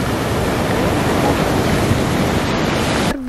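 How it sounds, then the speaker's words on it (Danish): High ocean waves crashing on a beach in Tenerife, a loud, continuous roar of surf that fills the scene and cuts off abruptly at the end. "Og virkelig høje bølger."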